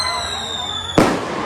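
An explosion goes off during a disaster preparedness simulation at the Bitung mayor's office: a single sharp, loud blast that cuts through a steady background of siren-like tones and chatter.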